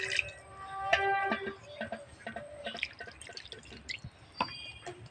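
Spiced water is poured into a raw hilsa fish paturi mixture, giving short wet drips and splashes in a quiet kitchen with no talk.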